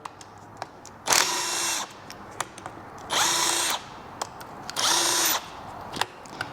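Impact wrench working the engine bolts of a blown Vespa GTS 300 HPE scooter during a teardown, three separate loud bursts each about half a second to a second long, with short clicks and clatter of tools between them.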